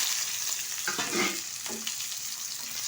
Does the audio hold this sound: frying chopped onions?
yes